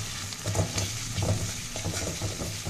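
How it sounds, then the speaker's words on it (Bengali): Ginger, garlic and green chilli paste sizzles with meat in a pan, a constant loud fry broken by repeated scrapes of a spoon stirring. "আদা রসুন কাঁচা লঙ্কা পেস্টটা খুব ভালো করে কষিয়ে নেবো মাংসের সাথে"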